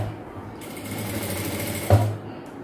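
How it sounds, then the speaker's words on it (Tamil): A sewing machine stitching a seam on a chudidhar, a steady close mechanical hum and rattle running throughout with a brief thump near the end. "இப்போ ஒரு 1/2 இன்ச் தள்ளி இன்னொரு தையல் போட்டுக்கலாம்"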